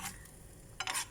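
Eggs for scrambled egg with pancit canton fry in oil, a quiet steady sizzle with two short scraping stirs in the pan, one at the start and a louder one near the end.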